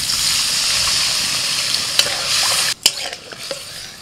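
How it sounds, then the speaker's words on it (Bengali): Thick spice paste sizzles steadily and loudly in a pan during a Bengali jhinge-prawn curry, then water goes in, breaking the sizzle abruptly, followed by a few sharp clatters and softer bubbling. "মশলা কষাতে কষাতে যখন তেল ছাড়া ছাড়া হয়ে যাবে সেই সময় আমি দিয়ে দিচ্ছি জল"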